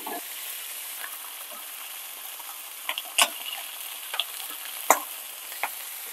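Thin beef slices for Filipino bistek sear in a hot pan with a steady, soft sizzle, punctuated by a few sharp clinks and taps as pieces are placed and turned; close and moderately loud, with no talking.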